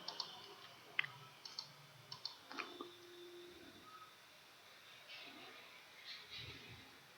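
Computer mouse clicks while setting up Windows XP SP3 in VMware Player 12, a scattering of sharp, quiet single clicks at uneven intervals in the first few seconds, followed by faint shuffling.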